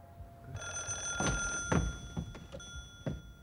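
A telephone rings indoors in a sustained, steady electronic tone, moderately quiet, with a few dull thumps and knocks around it.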